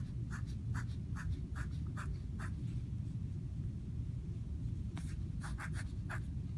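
Pen drawing on paper or a board to illustrate a fractions math problem, a series of short scratchy strokes in two bursts separated by a pause, quiet and close over steady low room noise.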